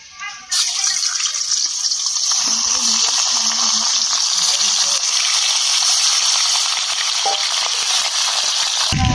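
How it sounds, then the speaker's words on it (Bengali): Tilapia pieces rubbed with salt and turmeric fry in hot oil in a kadai, a loud steady sizzle that starts abruptly and holds continuously, with faint low clatter underneath. "কড়ার মধ্যে তেল দিয়ে দেবো, এগুলো ভেজে নেবো।"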